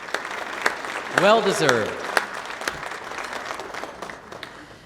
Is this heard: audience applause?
yes